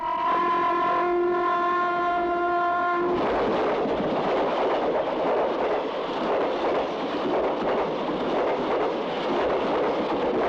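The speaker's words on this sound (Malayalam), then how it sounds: "നിൽക്കാത്ത ട്രെയിൻ" A train roars past close by, opening with a loud multi-tone horn blast for about three seconds, then a steady rushing rumble and clatter of cars.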